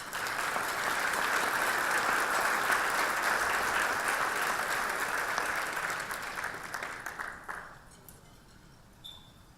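Audience at a patient safety awards ceremony applauds a honoree and his team, steady sustained clapping filling a large room for about eight seconds before tapering off into quiet.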